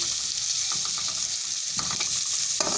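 A chicken and vegetable filling fries in a pan with a loud, constant sizzle and bursts of rattling spatula stirring, several quick scrapes in clusters, with no voices.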